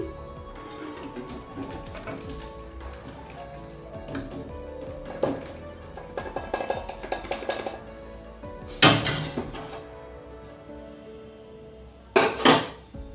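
Lau prawn curry, a spicy-tangy bottle gourd and shrimp dish, tipped from a metal pan into a serving dish, with clinks and scrapes of pan against dish and a few louder clattering knocks near the end.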